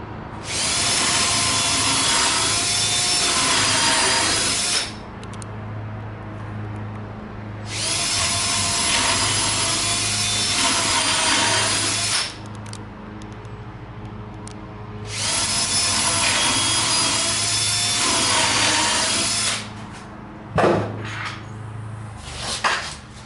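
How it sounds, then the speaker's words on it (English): Power drill driving complement screws through the front stretcher of a sink base cabinet, three loud, steady whirring bursts of about four to five seconds each, separated by short pauses with faint handling clatter. "rotate this around so we can attach the front stretcher with complement screws"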